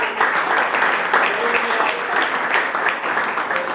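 A roomful of people claps warmly and continuously at a conference in Roccavaldina celebrating the Ruccaloru cherry tomato, the sustained ovation running throughout with a faint voice underneath.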